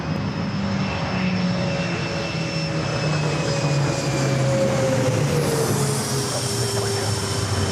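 Airplane at LAX airport roaring loud and steady as it passes directly overhead, the engine drone shifting pitch slightly toward the end.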